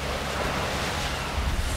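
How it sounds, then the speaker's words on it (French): Strong, steady wind roaring at high altitude in an animated cartoon, a continuous broadband rush with gusty low rumble that swells slightly near the end, with no talking. "Le vent est drôlement fort à cette altitude."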